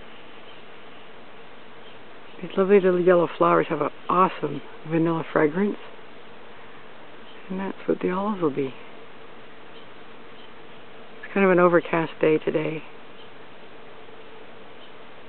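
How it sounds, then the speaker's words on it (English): Bees humming as they work the small yellow, vanilla-scented flowers of an olive tree on an overcast day, a steady faint buzz running throughout beneath a person talking in bursts. "Can you hear the hum? That's the bees working the flowers of the olive tree."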